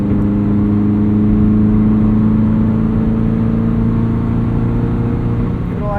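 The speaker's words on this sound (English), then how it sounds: "if I dip into the throttle" A Subaru BRZ with an aftermarket header accelerates in sixth gear on the highway to pass, its engine a steady low drone with a rising hum, heard from inside the cabin with no talking.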